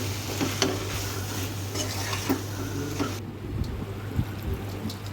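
Spice powder stirred into a broad bean masala curry as it fries, with constant sizzling and scraping stirs of a spoon against the pan throughout.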